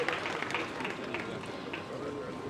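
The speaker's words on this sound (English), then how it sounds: "please, a round of applause" A seminar audience in a hall claps in a sustained round of applause, dense and even throughout, mixed with crowd noise and speech.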